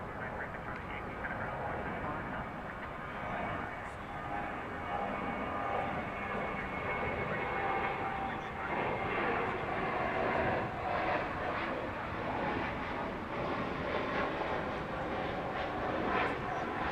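Airliner departing from DFW Airport at night, a broad distant engine roar rising gradually and holding steady, with faint background noise and no clear talk.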